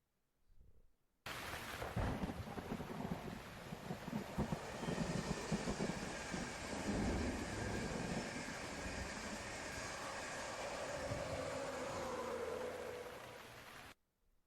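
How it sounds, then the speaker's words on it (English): A modern train rolls along in heavy rain, a dense, steady roar of wheels and downpour with deep thunder rumbling through it, starting abruptly and ending suddenly after about twelve seconds. "video of modern train moving in the rain"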